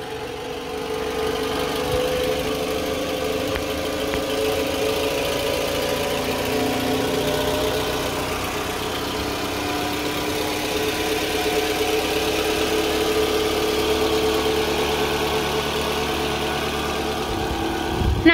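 An ex-taxi car's engine idles with the engine bay open, a close, even mechanical hum with a faint ticking texture that holds steady throughout, with no voices.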